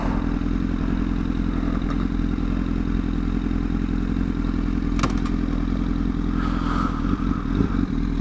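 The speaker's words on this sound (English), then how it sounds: "I want to leave you with the motorcycles" Big motorcycles rumbling past on a ride, a steady loud low engine drone throughout with scattered clatter and a brief sharp knock midway, no talking.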